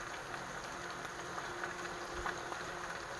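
Cabbage sizzles and crackles in a full iron skillet, a steady, dense hiss of frying with fine popping, moderately quiet and unbroken by talk.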